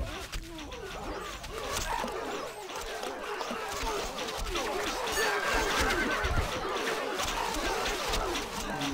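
A horse whinnies in Stronghold Crusader amid dense medieval-strategy game noise, partly buried under a steady wash of battle and ambient sound, with voices present.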